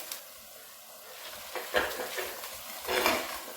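Ginger fries lightly in a pan with a soft, low sizzle, broken by a few scraping stirs of a utensil that rise in two short bursts near the end.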